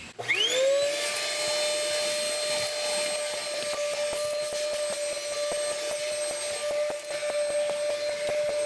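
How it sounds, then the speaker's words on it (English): A vacuum cleaner sucks debris from a car's interior, starting with a rising whine that settles into a steady, loud drone, broken by frequent clicks and rattles as the nozzle picks up grit. "Now let's go ahead and vacuum this out."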